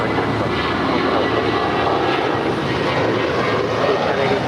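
A JetBlue airliner departs LAX with a loud, close, continuous engine roar that holds steady for the whole few seconds.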